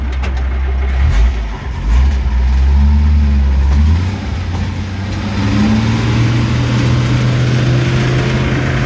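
A WWII Sd.Kfz 251 half-track's engine pulls away in gear, a deep, loud, rumbling drone that dips and rises as it gathers speed.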